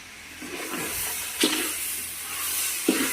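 Chopped jackfruit is stirred in a hot pan with a wooden ladle, giving a soft scraping and sizzling hiss with two sharper scrapes close by.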